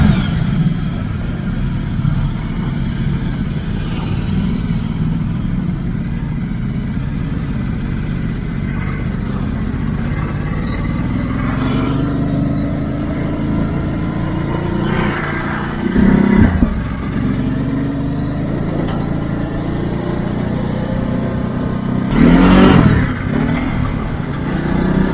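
A Ducati 1260 Enduro motorcycle ridden offroad, its engine droning steadily throughout with wind rush and occasional clattering bumps, loud and continuous.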